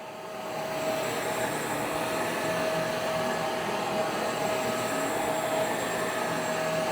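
A Shark CarpetXpert HairPro EX304 carpet cleaner runs with a steady, loud motor whine and airy rush that holds unbroken throughout, with no voices.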